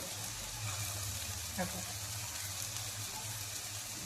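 Steady oil sizzling in a pan, with a brief louder crackle partway through as finely chopped garlic is dropped in, then the frying settles back to an even hiss.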